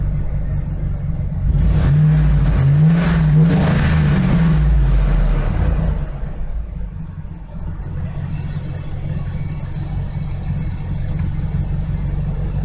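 A car engine idles steadily at around 700 RPM, close and loud, with a low constant rumble that settles slightly quieter partway through; no talking is heard.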